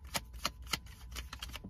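Small tarot cards shuffled slowly by hand give a series of soft, evenly spaced crisp taps and flicks, close and quiet, with no talking.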